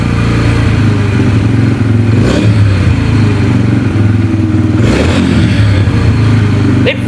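A Yamaha motorcycle engine idles loudly and steadily after its idle tuning was reset to factory settings, a close continuous rumble with brief revving swells and someone speaking over it.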